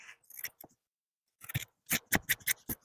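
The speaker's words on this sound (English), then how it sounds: "just trim right next to that thread without actually cutting it" Scissors trim fabric close beside a thread while an old stool is being reupholstered, making a few quick snips and then a rapid series of crisp, close cuts separated by brief silence.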